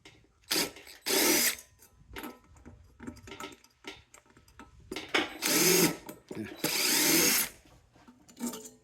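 A power tool backs screws out of a fitting holding a brass piece, whirring in several close, loud bursts of a second or two each, with clicks and rattles between them.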